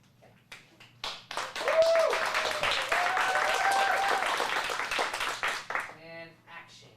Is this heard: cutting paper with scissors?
no